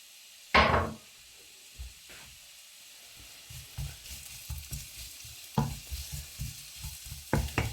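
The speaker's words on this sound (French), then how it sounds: "Et on va y faire revenir notre oignon et l'ail" Onion and garlic hit hot olive oil in a pan with a sudden loud burst of sizzle, then settle into quieter frying with a run of rhythmic knocks and scrapes from stirring against the pan.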